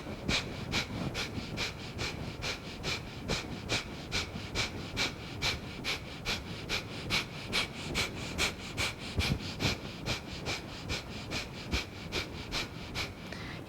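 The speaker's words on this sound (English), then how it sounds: "What you're doing is you're just breathing out like that and breathing in like that." Slow, steady breathing during a breathwork exercise, with repeated in-and-out breaths forming an even rhythm of soft airy strokes, close and quiet with no talking.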